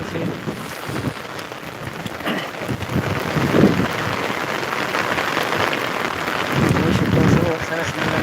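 Steady rain pours in a village near a highway and a coconut palm at home, a dense continuous wash with occasional louder gusts, broadband and fairly loud throughout.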